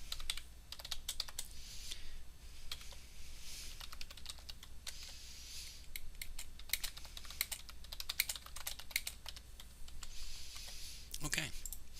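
Computer keyboard typing a message box command in Visual Basic code, with steady close clicking keystrokes running throughout, fast bursts and short pauses over a low constant hum.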